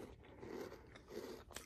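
Crunchy chocolate chip flavored cookies are bitten and chewed up close, giving a steady run of dry crunching and grinding with no talking.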